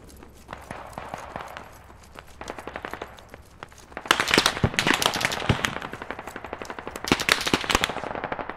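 Machine-gun fire in the video game Squad rattles in rapid bursts, some distant and some closer and louder, with single shots scattered through a large-scale battle.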